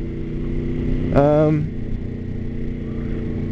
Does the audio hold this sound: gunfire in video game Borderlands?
no